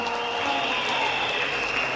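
Audience clapping at a National Women's Day commemoration in Limpopo, a steady wash of applause from a large crowd, sustained and even for a couple of seconds.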